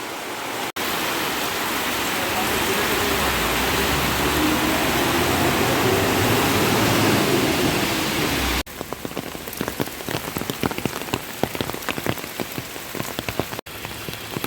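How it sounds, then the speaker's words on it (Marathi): Heavy monsoon rain in a Konkan village pours steadily in a dense roar, then shifts to harder, uneven drumming with distinct drops spattering on a nearby surface. "आज पण पाऊस जोरात लागता"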